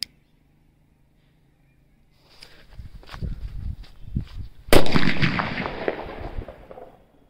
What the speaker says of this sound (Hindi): सुपर बुलट बम के अंदर आग और देखते हैं ये कैसा धमाका करता है